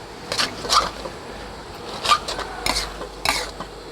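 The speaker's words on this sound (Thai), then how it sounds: "ต่อไปผัดให้แห้ง นะครับ พัดคือเครื่องปรุงก็เข้ากัน แล้วก็พัดให้มันแห้งที่สุด" Thai basil beef is stir-fried in a pan over medium heat until dry: a spatula scrapes and clanks against the metal in several separate strokes over a low sizzle, with no talking.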